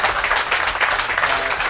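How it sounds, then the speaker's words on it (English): Audience applause at the Lady Farmer of the Year final, a short burst of dense clapping from a crowd filling the room at steady loudness. "Listen, big round of applause there for Hannah Landers."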